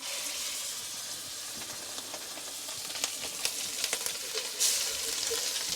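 Salmon frying in browned butter in a pan, a steady close sizzle and hiss with small pops and crackles spitting through it, no talking.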